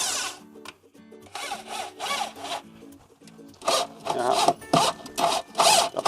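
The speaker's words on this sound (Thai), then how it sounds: "แล้วก็ยึดด้วยสกรูแบบนี้ครับ" Screws are driven by hand to fasten a 12-inch subwoofer box inside an All New Chevrolet car, giving repeated rough rasping and grinding bursts in uneven strokes, close and fairly loud.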